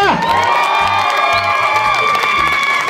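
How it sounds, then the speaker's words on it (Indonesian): A crowd at a film premiere cheers loudly with whoops and shouts, full and close. The roar holds steady over a background tone for a few seconds. "Boleh minta tepuk tangan yang meriah?"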